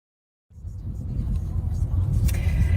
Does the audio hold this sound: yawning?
no